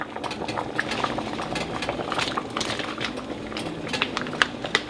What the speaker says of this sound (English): the swamp stew is boiling. I dropped it to a simmer